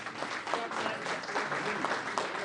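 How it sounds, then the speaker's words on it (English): An audience at a Project Management Institute annual conference applauds the MC, a steady patter of many hands clapping at moderate distance throughout the short burst. "Please, a round of applause for our MC."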